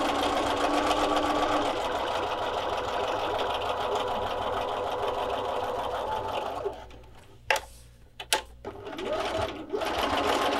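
Sewing machine stitching a cross-stitch ornament pillow, a loud, steady close whirring and rapid needle chatter that runs continuously, then stops near the end, leaving a few sharp clicks and thumps.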